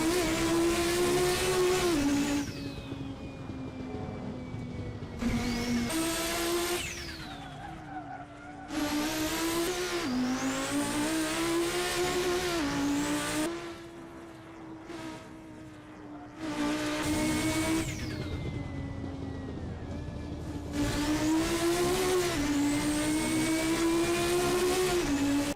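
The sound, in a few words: high-powered race car engine driving in Assetto Corsa video game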